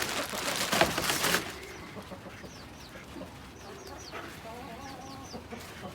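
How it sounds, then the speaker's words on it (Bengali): Larger, well-grown tiger chicken chicks kept on a rooftop while rain is falling: a brief burst of rustling noise, then repeated thin peeping calls in short bursts, fairly close but soft against a steady background hiss. "এখানে মুরগির বাচ্চা আছে যেগুলো অনেক বড় বড় হয়ে গেছে"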